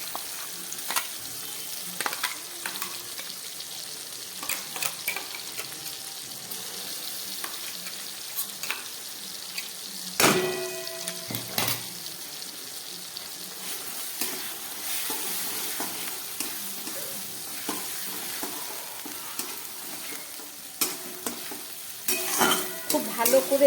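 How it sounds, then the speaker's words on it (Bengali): Mushrooms frying in a pan as a ground spice paste is stirred in, a steady close sizzle with scraping stir strokes throughout and a louder burst of sizzling midway. "এবার আমি এই যে মিক্সিতে পেস্ট করে রাখা মশলাটা এর মধ্যে দিয়ে দিচ্ছি"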